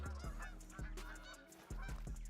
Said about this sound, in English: Tons of Canada geese.